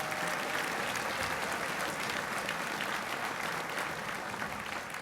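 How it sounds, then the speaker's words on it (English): An audience at a high school event gives a round of applause, steady dense clapping filling the room evenly from start to finish. "we need to give a round of applause to everybody that helped set up and cater this wonderful event"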